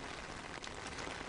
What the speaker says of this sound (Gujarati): ધીમી ધારે વરસાદ અહીં પડ્યો હતો